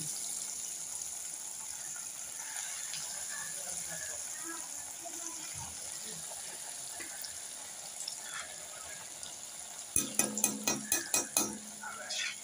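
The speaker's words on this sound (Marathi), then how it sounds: "या तेलामध्ये आपण एक एक टिक्कीज आता फ्राय करून घेऊ" Leftover chapati tikkis fry in oil in a kadai with a soft continuous sizzle, ending in a quick run of sharp clinks and scrapes as a spoon works the pan, with a voice talking over it.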